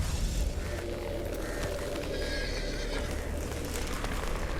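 A horse neighs and whinnies over a dense, steady wash of fantasy-game ambience and rumble, with a hint of hoofbeats; the sound is loud and continuous throughout, with no talking.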